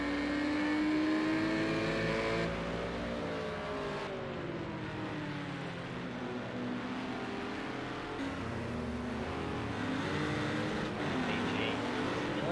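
Race cars lapping Fuji GP in Project CARS 2 during a GT4 championship round, engines droning and shifting pitch as they rev, accelerate and pass, under continuous commentary.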